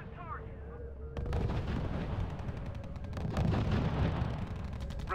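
Artillery fire in the real-time strategy game RUSE, dull booms and repeated cracks rumbling continuously under a faint radio-style voice.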